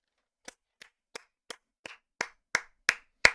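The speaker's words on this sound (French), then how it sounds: "Non, là, il faut applaudir." Nine slow, evenly spaced hand claps ring out alone and close, each sharp and isolated, growing steadily louder toward the end.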